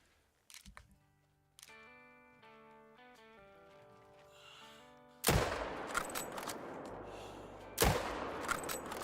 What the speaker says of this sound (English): Let's shoot this one right here.